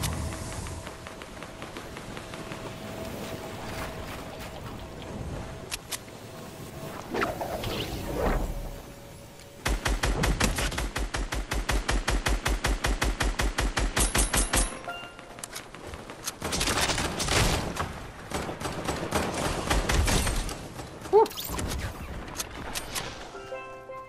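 Rapid bursts of automatic gunfire and heavy booms in a Fortnite battle, with long sustained strings of shots, scattered single blasts and quieter stretches between volleys.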